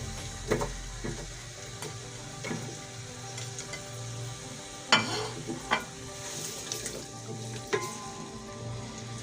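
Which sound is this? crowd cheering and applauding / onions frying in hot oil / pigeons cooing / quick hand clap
onions frying in hot oil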